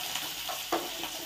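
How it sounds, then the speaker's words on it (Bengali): Jackfruit seeds frying in a pan give a soft, steady sizzle with a brief scrape of stirring, close by and alone. "তো এই যে কাঁঠালের বীজ ভাজা বসালাম,"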